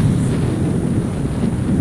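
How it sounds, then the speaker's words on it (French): Steady, loud wind roars across the microphone on a sailing cruise in the Gulf of Ajaccio, Corsica, a continuous broadband rush with no pauses. "Alors qu'il y a toujours un bon petit vent."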